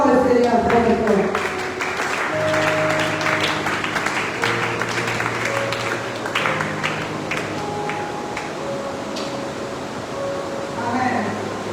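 A church congregation applauds in a steady, dense wash of clapping that runs the whole time, mixed with sustained keyboard or organ tones and a voice now and then.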